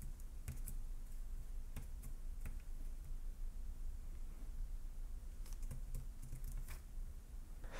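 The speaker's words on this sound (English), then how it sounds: "I'll click on my keyboard, and now I have to enter this number again." Rapid typing on a Bluetooth keyboard paired with an iPad Air, with clustered clicks and short pauses, close by, over a steady low background hum.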